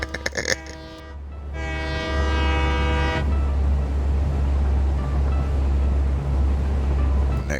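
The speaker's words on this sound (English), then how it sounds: "And you get to honk the horn." A train horn blares in a train simulator video game, a harmonic blast sounding for about two seconds over the steady, loud rumble of the moving train, which continues alone afterward.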